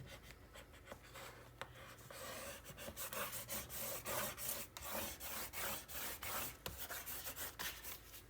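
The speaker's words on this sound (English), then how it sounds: "Burnish this so that that tape is really making contact." Tape burnished onto paper in a mini craft album, a soft close-up rubbing and scraping in quick rhythmic back-and-forth strokes, quiet and intimate, with no talking.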